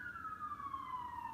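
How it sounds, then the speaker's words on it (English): An emergency vehicle siren wails outside at night, a single faint, distant tone gliding slowly downward over a low rumble of background noise. "Loud sirens tonight."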